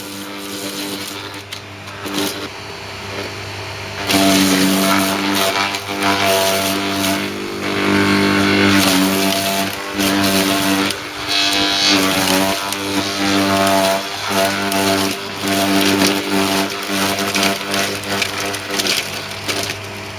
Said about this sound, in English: So I'm going to start shredding with some thin stuff.